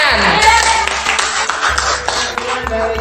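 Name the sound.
class applause, clapping hands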